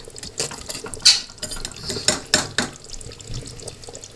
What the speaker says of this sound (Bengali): তো এবার একটু ভালো নাড়িয়ে নেবে।